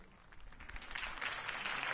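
Crowd applause from the Batman Telltale series video game, following Harvey Dent's campaign speech: a steady wash of clapping that swells slightly louder toward the end, with no voices.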